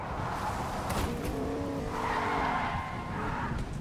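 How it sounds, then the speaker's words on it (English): Car driving and skidding in Fortnite during its Star Wars May the 4th event, a steady engine drone with tire squeal rising through the middle, loud and continuous for the whole stretch. "I hear the dumb car and I don't know where it is."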